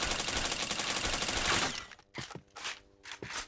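Rapid automatic gunfire in the Point Blank shooter game rattles loudly for about a second and a half, followed by a few scattered shots and clicks.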